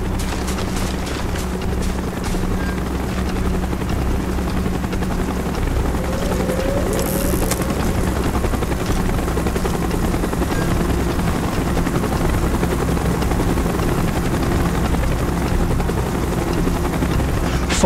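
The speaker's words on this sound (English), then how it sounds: "Chopper's inbound! Move it!" Military helicopter arriving in Call of Duty Black Ops, a loud, steady rotor roar and engine drone that fills the scene continuously without letting up, with no voices over it.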